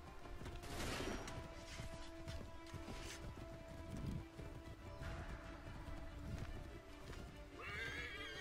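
A horse in the video game Assassin's Creed 3 neighs loudly and gallops with a steady clip-clop of hooves, mixed with game effects and occasional distant gunfire, continuous throughout.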